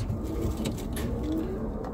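Birmingham Roller pigeons coo softly in a breeding cage, low, faint, throaty murmurs over a quiet background hum.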